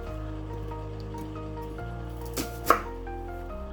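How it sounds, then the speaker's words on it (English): Music plays throughout while a knife strikes a cutting board a couple of times halving peeled shallots, the chops brief and sharp near the end. "Peel your shallots and cut them into halves."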